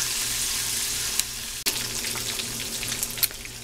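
Chicken fried steak frying in a pan of hot oil in a home kitchen, a dense, steady close sizzle with a couple of brief pops and clicks and no talk.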